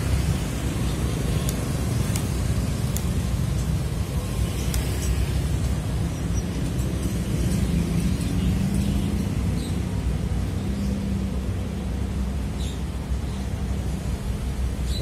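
A Honda car engine idling nearby, a steady, even rumble that continues without a break, with a few faint clicks above it.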